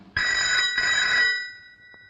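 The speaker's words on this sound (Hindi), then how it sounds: "देखो किसका फोन है।" An old-style telephone bell rings loudly and close, two bursts in a row, then fades into silence.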